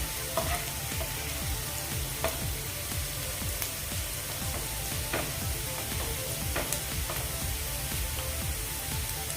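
Chopped onion fries in a pan over a high gas flame while a healthy matki (moth bean) dish is made. A steady, close, hissing sizzle runs without a break, with faint occasional clinks and no talking.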